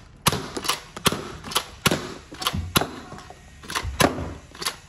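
A Nerf 6SH blaster fires repeatedly, a quick series of about a dozen sharp snapping thumps at an uneven rapid rhythm, close and fairly loud, with a faint steady whine behind.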